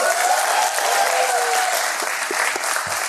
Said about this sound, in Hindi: पहले तो मैं चाहता हूं कि तुम सब अपने लिए एक बार ताली बजा दो